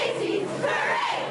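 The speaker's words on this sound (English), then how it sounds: "The cheering was full of life" A lively crowd cheers and shouts at a Thanksgiving Day parade, a dense, steady wall of voices that stays loud and unbroken for the whole moment.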